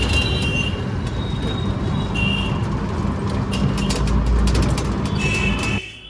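A metro train runs at Dashrathpuri metro station with a loud, close, continuous rumble. Thin wheel squeals and whining tones rise over it before the noise drops slightly at the end.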